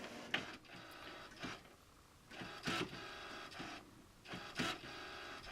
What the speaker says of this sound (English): And today we are using the Canon Pixma printer.